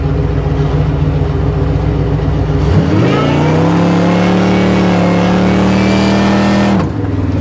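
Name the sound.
blown 1955 Chevrolet Nomad burnout, revving and spinning tires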